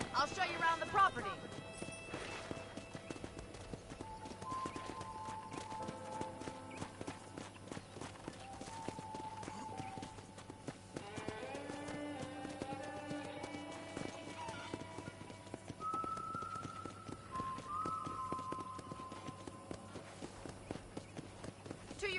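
Horse hooves clip-clop steadily in the Western video game Red Dead Redemption, a regular walking rhythm running under game music and spoken dialogue throughout.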